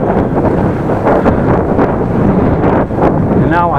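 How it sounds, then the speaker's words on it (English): Strong headwind buffets the microphone while a cyclist rides uphill on a Dutch countryside road, a steady roaring rush of wind that masks nearly everything else. "And now I go up and I have headwind, really nice."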